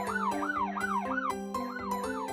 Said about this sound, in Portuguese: Este é um carro de polícia.